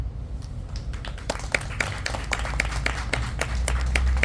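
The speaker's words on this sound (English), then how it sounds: "let's give her a round of applause" Audience applause at a Southeast Asia gathering, a crowd clapping with scattered sharp individual claps over a low room rumble, building slightly toward the end.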